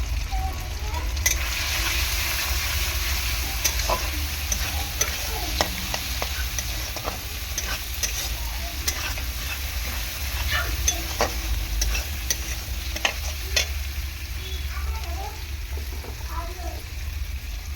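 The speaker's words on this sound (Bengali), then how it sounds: "মশলাটা একটু কষিয়ে নেব। মোটামুটি আমার কষানো হয়ে গিয়েছে" A spice masala of cumin powder, chili powder and turmeric is sautéed in a pan, giving a steady sizzle with frequent scraping stirs throughout, close and fairly loud.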